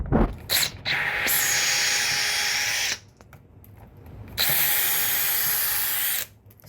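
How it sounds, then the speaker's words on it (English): A power drill bores out small wooden pieces clamped in a vise, whining loudly in two long bursts separated by a short pause, with no talking. "I'm going to take my last 2, put them back into the vise, and drill these out again."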